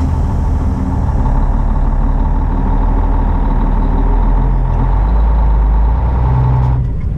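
A loud, close semi truck engine rumbles steadily as the rig pulls away, with a deep low drone that swells slightly toward the end and no voices over it.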